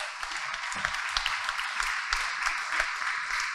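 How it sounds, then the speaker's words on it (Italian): An audience at an engineers' association event applauds steadily throughout, a dense, continuous patter of many hands clapping at moderate distance. "nostro professore Marco Camisani Calzolari, che io accoglierei con un grande applauso"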